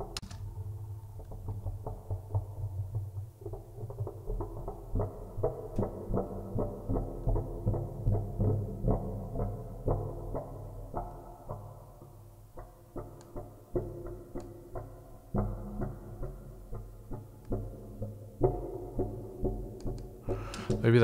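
A deep, dark dungeon synth drone swells and pulses slowly, with long reverberant tails and rhythmic throbbing low tones.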